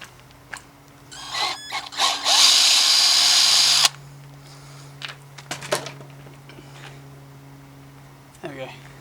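A power drill widens a hole in a Raleigh bike frame for a 3mm rivet, giving one brief, close, high whirring burst of under two seconds, with quiet handling clatter before and after.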